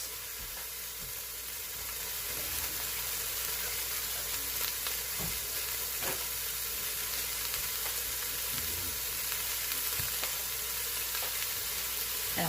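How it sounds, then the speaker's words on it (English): Cheese-stuffed chicken sautéing in a pan gives a quiet, steady sizzle and crackle, with occasional small pops and no voices. "And I'm just going to saute it on all sides."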